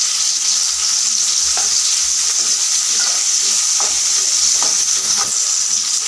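Browned onion and coconut frying in a pan for mint chutney, a loud, dense, continuous sizzle close up with a few soft stirring knocks and no talk.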